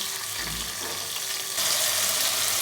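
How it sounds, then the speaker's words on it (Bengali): A water-mixed spice paste fries in a pan, a dense continuous close sizzle that swells louder partway through, with no talking. "এর সঙ্গে যে মশলাটা গুলে রেখেছিলাম জলের সঙ্গে এটা দিয়ে দিলাম ভালো করে কষিয়ে নেবো"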